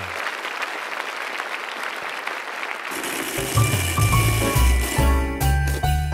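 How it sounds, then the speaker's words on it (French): A church congregation applauds for the Lord after a prayer, a steady crowd clapping that breaks off midway into tonal jingling and mechanical ratchet-like sounds. "Donnons une main d'applaudissement au Seigneur."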